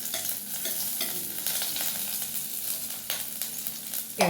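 Ginger and garlic, with carrot and green chilli, frying in a spoonful of hot oil for ragi soup, giving a steady close sizzle with occasional stirring scrapes throughout.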